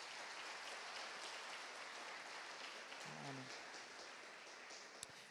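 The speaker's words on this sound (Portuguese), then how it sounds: "Dá uma salva de palmas a Cristo." A church congregation gives a faint, distant round of applause, an even, rain-like patter of many hands sustained throughout, with a brief murmur of voices partway through.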